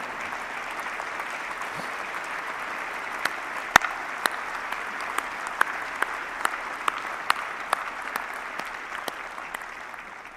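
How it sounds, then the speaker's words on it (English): Steady audience applause at a Remembrance Day ceremony in Saskatoon, a dense even wash of clapping held for about ten seconds with a few sharper individual claps, fading slightly at the end. "Ladies and gentlemen, continue your generous applause."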